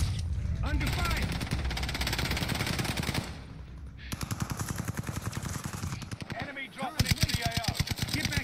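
A shooter video game fills with rapid automatic gunfire in dense bursts, with a brief lull before the firing resumes even louder and sharper near the end.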